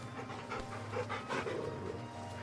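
A dog in the Final Fantasy 16 video game pants steadily and rhythmically while being petted, close and fairly quiet, with soft game ambience behind it.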